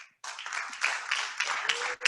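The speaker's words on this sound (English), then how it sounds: "We'll give you a round of applause and you can sign off." A round of applause closes a Clear Choice training session: dense, steady clapping from a group that swells quickly after a short pause, holds for nearly two seconds, then fades out.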